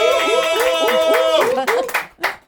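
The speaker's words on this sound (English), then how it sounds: "a big round of applause to Original Culture Festival" Handclaps at a podcast recording honouring a music and culture festival, sparse and rhythmic with a strong tonal voice or music layer beneath, thinning out toward the end into a few separate claps.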